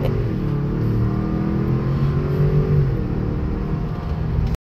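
A 2024 Ford Expedition Limited pulls hard in sport mode with traction control off, its engine note rising continuously and loud from inside the cabin until an abrupt cut.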